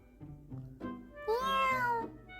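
Cat meowing close up for a black cat character in a picture-book reading, a few short chirps followed by one long, clear rising-and-falling meow.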